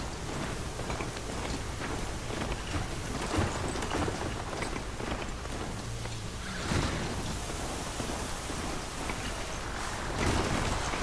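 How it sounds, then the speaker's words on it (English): Heavy rain pours steadily during a thunderstorm in the video game Horizon Zero Dawn, with low rumbles of thunder rolling underneath and a few louder swells; no voices. "This storm's gonna back down before I do."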